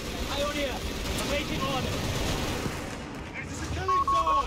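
An MG-42 machine gun crew firing in Company of Heroes 3 during a 3v3 multiplayer battle: dense, continuous rattling bursts blended with battlefield noise and distant explosions, with unit voice lines heard through the din.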